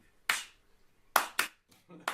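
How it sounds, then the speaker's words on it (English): Sharp clap-like snare hits from a played song recording, five crisp percussive strikes in an irregular rhythm, fairly loud and close, one pair in quick succession. "it's got this weird clapping like sound"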